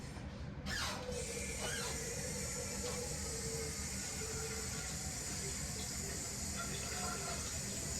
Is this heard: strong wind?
no